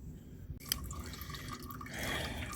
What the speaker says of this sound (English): While the oil is draining